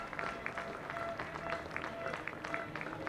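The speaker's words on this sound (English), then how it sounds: "Nice round of applause." Speedway crowd at a team tournament applauding, a steady spread of claps with rhythmic sharper bursts, under a faint tonal hum and background chatter.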